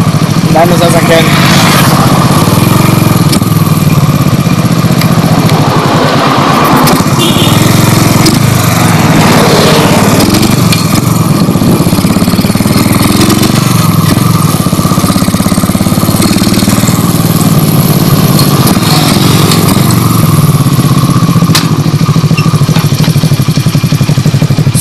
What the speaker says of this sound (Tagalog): So, nag-fire yung motor ko.